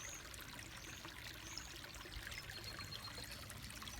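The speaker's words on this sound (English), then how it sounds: "This is the creek behind my house. I call it, it's like a stream." A creek runs behind a house in Jackson County, Kentucky, giving a continuous low trickling rush of flowing water, steady and fairly quiet throughout with no voices.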